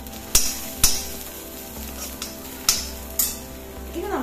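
Sliced onions browning in a pan for masala Maggi noodles, a low steady sizzle punctuated by several sharp metallic clinks of a utensil against the pan.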